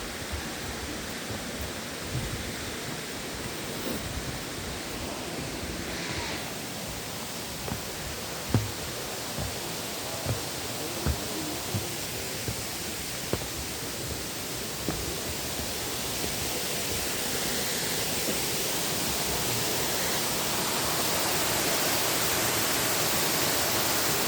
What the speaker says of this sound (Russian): Вот такой водопад.